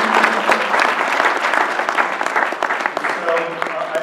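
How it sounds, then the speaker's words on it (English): A regional arts and culture summit audience gives a sustained round of applause, dense clapping that fills the room steadily throughout, with a faint voice rising near the end. "could we give them a round of applause?"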